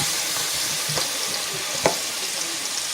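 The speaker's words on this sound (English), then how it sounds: "I'm just going to check on the vegetables and stir them a little" Vegetables being stirred in a sizzling pan: a steady hiss of frying with a few soft scrapes and clicks of the utensil, close and moderately loud, with no talking.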